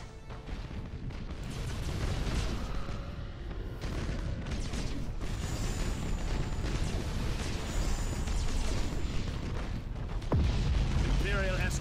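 Space battle in Battlefleet Gothic Armada as an Imperial escort ship is destroyed, a constant roar of booming explosions and weapon fire with a sharp burst near the end, voices speaking over the din.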